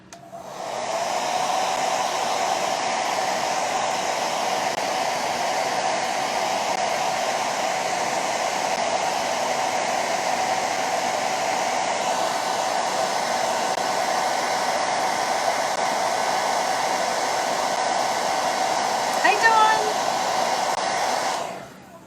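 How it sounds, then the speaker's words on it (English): A hair dryer blowing steadily on drying paint on a dollar-store pizza pan craft, a loud, even whir that runs for about twenty seconds before switching off. "let me blow dry that"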